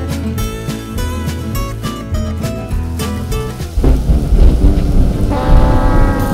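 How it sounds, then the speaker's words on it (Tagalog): Heavy rain pours down over a backyard street-side cooking setup, a loud dense hiss that swells midway and overtakes the earlier music-like background. "bumubuhos na ang ulan"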